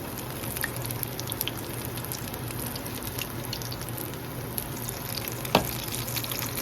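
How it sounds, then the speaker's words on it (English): Jamaican-style fritters frying in hot grease, a steady crackling sizzle throughout with scattered pops and one sharper spit near the end, close up and no talking. "Ooh, this grease is popping me."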